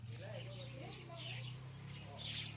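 Myna birds chatter and call behind a hotel where they gather at discarded food scraps. Their short chirps rise and fall over a steady low hum, with people talking through the whole clip.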